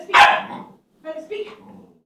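A dog barks sharply once, then gives a few shorter, softer yips and whines, close by in a quiet room.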